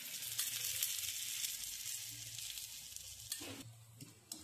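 Oil trickled onto a methi (fenugreek) paratha cooking in a hot pan, a steady close sizzle that flares briefly near the end as more oil hits the surface.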